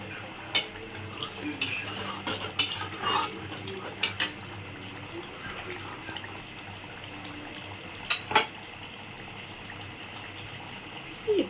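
Potato curry being stirred in a pot, with occasional clinks and scrapes of a spoon against the metal rising over steady low kitchen noise.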